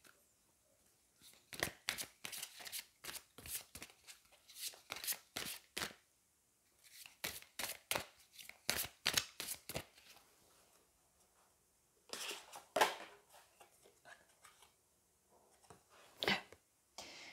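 Angel oracle cards are shuffled close up in quick, crisp riffling bursts, grouped in several rapid runs separated by short pauses, with no talking.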